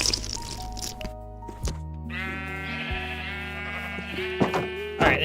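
Several Minecraft sheep bleat in the game, overlapping wavering cries close by, with squishy, watery game sounds mixed in.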